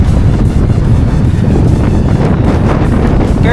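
Heavy wind buffets the microphone while road cycling on a Trek Madone SL 6 Gen 8, making a close, loud, unbroken low roar with rough gusting texture throughout.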